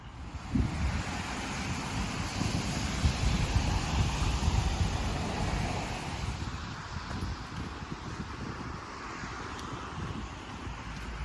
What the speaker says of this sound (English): look at the water flowing on the path under the bridge